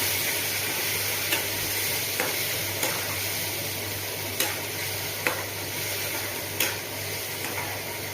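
Pointed gourd sliced for a poppy-seed dish sizzles steadily in hot oil, with a soft, even frying hiss throughout and a handful of sharp scrapes and clicks as a spatula stirs it in the pan.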